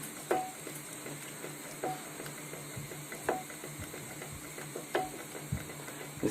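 A wooden spoon stirs a thick flour and milk paste in a pot for baked macaroni and cheese, producing soft periodic scrapes and knocks in a quiet kitchen.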